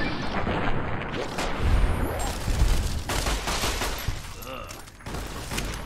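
Gunfire in Fallout New Vegas during a firefight, rapid bursts of shots and booms rattling in clusters over several seconds, with voices calling out amid the shooting.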